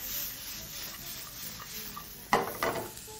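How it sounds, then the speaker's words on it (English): Onions fry gently in hot butter in a pan with a soft, low sizzle, then a sharp clatter of pan and utensil as they are tossed, followed by a few lighter scrapes. "proceed to fry off on a hot pan, tossing, of course, continuously, just allowing that warm hot butter to just coat your onions"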